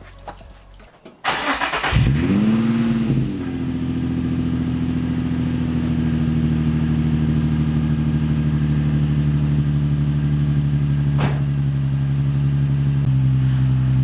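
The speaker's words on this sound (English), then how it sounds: "it is finally time to start up the car and hear how the initial startup sounds" A Nissan 350Z fitted with an ARK Grip exhaust cranks over and fires up, flaring briefly before settling into a steady, deep, close idle rumble that holds through to the end, with no talking.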